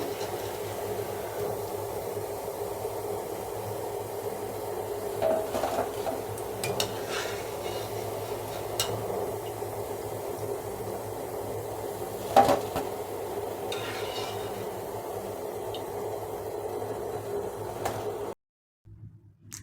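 Fried gulab jamuns are lifted out of the pan onto a plate. Faint steady sizzling sits under occasional light metallic clinks and scrapes of a ladle against the pan, fairly quiet, and nobody speaks.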